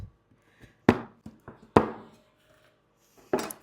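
Knife chopping white and German chocolate into chunks on a board: a handful of sharp, separate thunks at irregular intervals, close and fairly loud, with quiet gaps between strokes.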